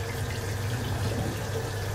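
Tap water runs steadily into a sink while salted eggs are washed by hand at home, a constant close splashing stream with no talking over it.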